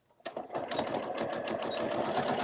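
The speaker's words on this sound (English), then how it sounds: "and we're just going to sew." A sewing machine starts up and stitches a cuddle-fabric infinity scarf, a fast, even mechanical whir of rapid needle strokes that runs close and steady after a brief quiet start.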